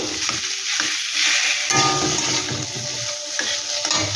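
Pashkura chop filling being stirred and mixed in a pan in a home kitchen, a steady sizzle with repeated scraping strokes of a spoon, close and fairly loud, with no talk.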